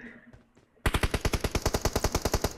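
Automatic gunfire in PUBG Mobile on the Livik map, a loud rapid burst of about fifteen evenly spaced shots starting abruptly after a quieter moment with faint background sounds.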